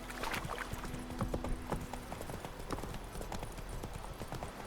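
Hooves of the horse Roach clip-clop at a trot in The Witcher 3 video game, a steady, fairly close rhythmic clatter over a low background hum.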